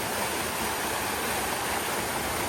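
A forest waterfall roars as a constant, full-bodied rush of falling water, loud and unbroken throughout with no voices on top.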